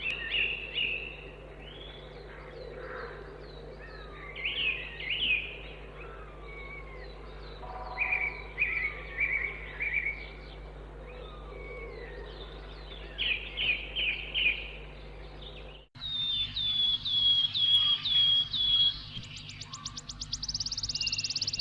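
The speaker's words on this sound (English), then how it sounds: "I started hearing birds in this area" Several birds sing and chirp in repeated short phrases at Lake Eden against a low steady hum, with a brief cutout before clearer, higher trills resume.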